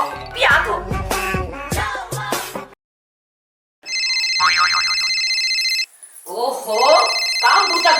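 Telephone ringing with a bright electronic ringtone in two bursts, loud and close, after a stretch of voices talking and a short silence, with talk returning over the second ring.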